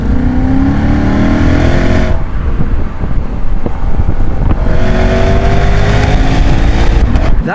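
A 2024 Lexus IS500 with its V8 pulls hard in comfort mode, a loud, close engine roar climbing through the revs with a brief dip at a gear change before building again.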